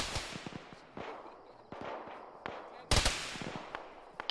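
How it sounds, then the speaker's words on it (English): Gunfire in a ShackTac tactical shooter game: repeated sharp shots and short bursts crack out in irregular volleys among trees, some near and loud, others fainter, with one especially loud close shot. "they're shooting through the trees"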